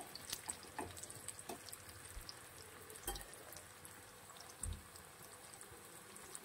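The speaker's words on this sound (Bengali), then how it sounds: "সবগুলো আমি এইভাবে লাল লাল করে ভেজে তুলে নেব।" Cornflour-coated chicken kebabs frying in a pan, a quiet, steady crackle and sizzle with occasional soft clanks and bumps, no voices.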